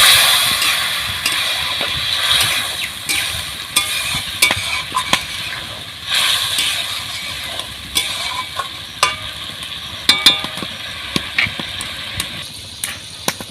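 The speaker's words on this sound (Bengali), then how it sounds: "অল্প একটু জল দেবো, দিয়ে ভালোভাবে কষিয়ে নেবো, মশলাটা যাতে না পুড়ে যায়।" Spiced masala frying with a splash of water in a pan for a golden fish curry, a steady loud sizzle broken by sharp stirring scrapes and clacks, with no talking.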